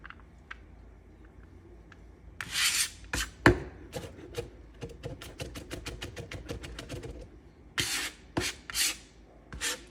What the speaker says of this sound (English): I'm gonna clean off my knife, gather, and keep mincing